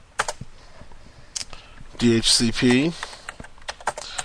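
Typing on a computer keyboard while entering a DHCP excluded-address command on network equipment; scattered quick key clicks in short bursts, near and moderately loud, with someone speaking over part of it.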